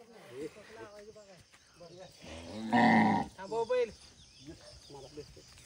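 Bulls readied for a bullock cart race at Pedgaon give a loud, close, drawn-out moo amid steady talking voices and faint insect chirping.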